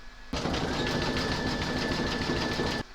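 Embroidery machine stitching a Valentine's heart coaster, a steady fast rhythmic whirr and needle patter that starts abruptly, runs evenly for over two seconds close up, then stops, with no talking.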